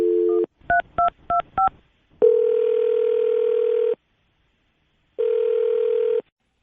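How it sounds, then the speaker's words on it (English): A landline phone on a morning radio show tone-dials a quick burst of four or five touch-tone beeps, then a steady loud ringback hum sounds twice, separated by a pause of silence, with no talk. "I'm about to dial her phone number right now"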